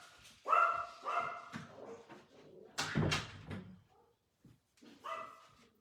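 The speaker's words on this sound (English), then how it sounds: "My dogs are gonna bark." Two small Yorkie dogs bark indoors in short sharp bursts, several yaps grouped in clusters with pauses between, moderately near and fairly loud against a quiet room.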